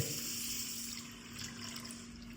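Water pours steadily into a bowl of washed rice and lentils to soak, a continuous close rushing and splashing with no talk over it.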